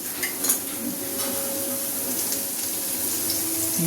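Garlic fries in hot oil in a pan, a continuous soft sizzle with a few clinks of a utensil against the pan near the start.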